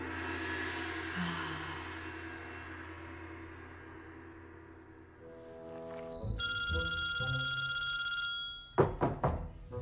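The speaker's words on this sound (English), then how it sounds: "Jacko, your phone kept ringing, so I answered it." A telephone rings with a bright, sustained electronic tone after a low rumbling stretch, followed by a few heavy thumps near the end.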